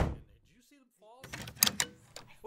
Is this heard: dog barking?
no